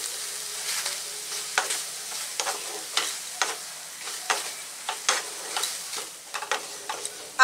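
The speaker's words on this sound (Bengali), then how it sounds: "আবার সবকিছু আমি একটু ভেজে নিচ্ছি।" Turmeric, chili powder and vegetables dry-fry in a pan without oil, with a soft background sizzle. Repeated sharp scrapes and taps of a spoon stirring the pan come in an irregular, steady rhythm, close up.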